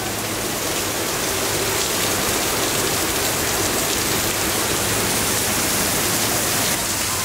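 Heavy rain pours steadily during a thunderstorm in Miami, loud and continuous, with a dense wash of noise and no clear thunder claps standing out.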